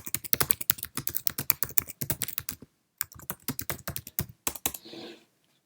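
Fingers type on a Mac computer keyboard, a close, crisp run of rapid key clicks in bursts with short pauses, alone without any talking.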